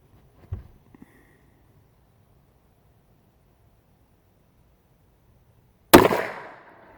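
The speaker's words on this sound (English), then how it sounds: "I'm going to shoot this one on the big shoot and see target" A handgun is fired at a paper target on an outdoor range: one sharp, loud report rings out after a long quiet stretch, with a few faint soft clicks and knocks near the start.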